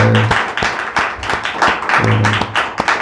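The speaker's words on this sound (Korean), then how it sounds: "시험 보는 학생들이 박수 한번 하도록 하겠습니다." Congregation applauding during a Sunday church service: loud, close clapping from many people throughout, with a low tonal hum underneath.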